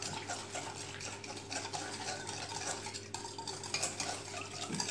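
A spoon stirs yeast into a small amount of milk in a bowl for cougnou dough, a steady soft scraping swirl that runs close and continuous over a faint hum.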